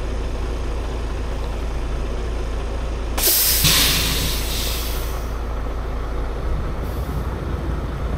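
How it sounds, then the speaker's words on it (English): Air hisses sharply as the trailer handbrake is set on a semi truck, a loud burst of rushing air lasting about half a second over a steady diesel idle, followed by a softer tapering release and a later faint puff. "pull your trailer handbrake"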